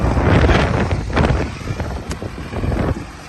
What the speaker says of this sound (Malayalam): നല്ല തണുത്ത കാറ്റാണ് എങ്ങനെയുണ്ട് കാറ്റ്